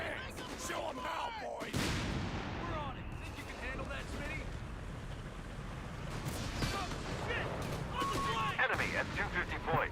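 Mortar and artillery fire in Company of Heroes, Little Green Army Men mod team game, with a heavy blast near the start and repeated booming impacts and gunfire throughout, steady and loud under in-game voices.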